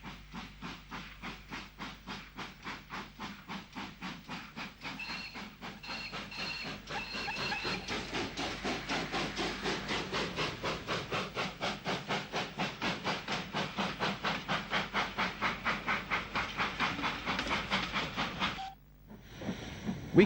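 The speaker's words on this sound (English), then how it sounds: "The 2 locomotives steam off in the direction of Birmingham." Two steam locomotives heading off toward Birmingham chuff rhythmically in a fast, even beat of exhaust bursts with hissing steam, holding steady at moderate volume before ending abruptly.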